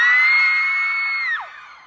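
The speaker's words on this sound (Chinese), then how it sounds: "多少女孩子给我点尖叫声！" A concert audience of girls lets out a loud, sustained high scream for about a second and a half, then it drops off and fades.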